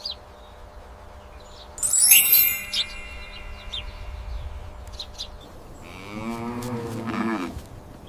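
A cow gives a single drawn-out moo near the end, rising then fading, after a stretch of softer rustling and a brief high chirp.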